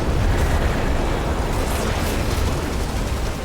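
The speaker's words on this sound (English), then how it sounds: "explosions are going off behind the building" Explosions rumble behind a building in the mech strategy game Phantom Brigade, a dense, continuous low roar of blasts and bursts that eases slightly toward the end.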